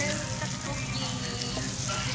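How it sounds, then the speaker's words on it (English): Bibimbap sizzles on a hot skillet at a restaurant table, a dense steady hiss of frying that runs unbroken for a couple of seconds at close range. "But it's sizzling, guys. Ouch! Got my bibimbap on a skillet."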